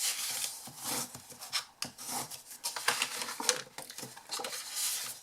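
Paper or cardstock folded and burnished for a storage box, giving quick dry rubbing and scraping strokes in uneven bursts, close and fairly quiet with no talking.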